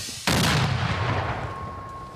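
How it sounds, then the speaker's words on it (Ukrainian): A single loud 120 mm mortar shot booms suddenly after a short silence, then a long rumbling echo slowly fades. "Тієї самої миті мінометники відрядили у напрямку ворожих позицій першу 120-ту"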